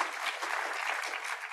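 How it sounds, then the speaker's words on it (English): Dense, continuous audience applause at the close of a talk on the neurobiology and psychology of aesthetic appreciation: a full room clapping evenly, moderately loud, with no speech. "I'd like to have a round of applause again for Ken"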